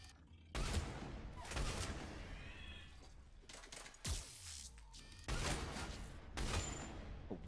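Gunfire in Mass Effect 3 (Legendary Edition), loud bursts of rapid shots in several clusters with brief lulls between, plus impacts and game effects close up, with no talk.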